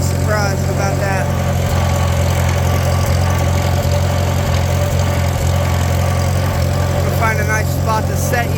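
A Farmall Super C tractor engine idles close by with a steady, low, throbbing chug that runs the whole time, while a person talks over it.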